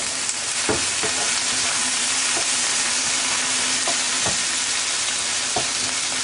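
Onion sizzling steadily as it fries in a pan for a mushroom fideuá, a loud continuous hiss broken by occasional soft knocks of the spoon stirring it, with no voices.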